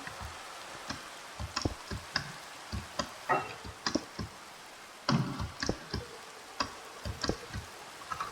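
Rain in Minecraft: scattered soft drops tick and patter irregularly at a quiet level, with no talking.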